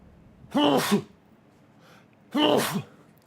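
Two loud, close sneezes about two seconds apart, each a sharp burst with a brief breathy intake between them, in an otherwise quiet room.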